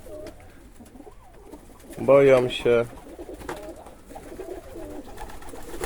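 Pigeons of fancy breeds, Polish Widyn and Hamburg gull, coo inside an aviary in a soft burst of rolling calls, close by, under steady background noise while someone talks nearby.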